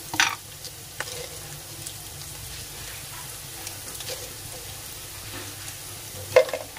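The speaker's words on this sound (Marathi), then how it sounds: "म्हणजे कांदा लवकर फ्राय होतोय." Onions fry in a pan for masala dosa and are stirred now and then. A steady close sizzle carries throughout, with occasional scraping clicks of a utensil against the pan.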